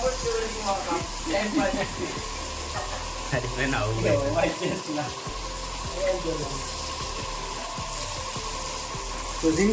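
Prawns cooking in a thick gravy in a large pot, with a steady low sizzle and bubbling running throughout, mixed with occasional stirring clatter and a voice talking over it.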